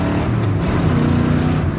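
A 1965 Corvette fitted with an LS6 engine pulls hard in second gear, its loud, close engine note rising steadily with rough exhaust rumble and no voices over it.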